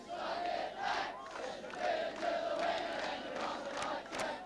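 Spectators at a 1984 schoolboy rugby match, Joey's versus Sydney Boys High, chanting in rival waves, a rhythmic, sustained roar of many voices at moderate distance.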